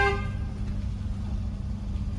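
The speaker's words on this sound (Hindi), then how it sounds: "हाँ लॉन्ग हॉर्न पुश करो" Car horn on a driving-lesson car in a narrow lane, held in one long press: a brief harmonic tone at the start under steady road and engine rumble, loud and close.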